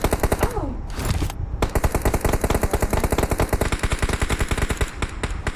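Rapid automatic gunfire from the PUBG Mobile video game, loud and continuous bursts of closely spaced shots with a brief pause early on, with no talk over it.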